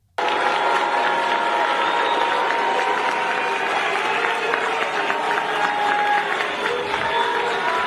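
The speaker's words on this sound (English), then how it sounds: "Big Tish getting booed." A crowd boos Letitia James in a house of worship, a dense, loud, unbroken wall of jeers and shouting that starts abruptly and holds steady throughout.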